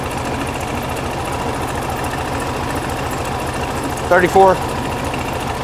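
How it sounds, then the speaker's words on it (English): Air-cooled engine of a 1969 VW Beetle idling a little low while cold, a steady low drone running throughout, with a brief louder burst near the end and someone talking over it. "Idling a little low, it's cold though."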